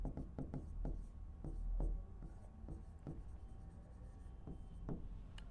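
Pen writing on paper as a maths practice-paper answer is worked out: a steady series of close, scratchy strokes and taps with short pauses between them, heard alone.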